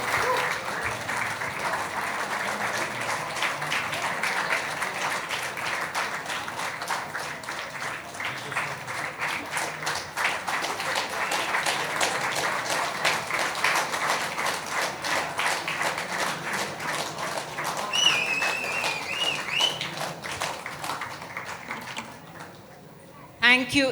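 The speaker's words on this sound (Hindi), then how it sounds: "तालियां बजती रहनी चाहिए।" Audience applause fills a folk instrumental concert of Kashmiri music, a steady sustained wash of clapping from a crowd that carries on for many seconds before tapering off near the end.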